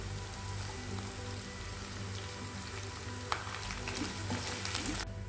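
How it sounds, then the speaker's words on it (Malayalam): Garlic, ginger and curry leaves fry in hot oil for a tuna fish pickle, giving a steady close sizzle with a few sharp crackles and stirring clatters near the end, with no voices. "അപ്പോൾ വെളുത്തുള്ളി ഇഞ്ചിയൊക്കെ നന്നായിട്ട് മൂത്ത് വന്നിട്ടുണ്ട്."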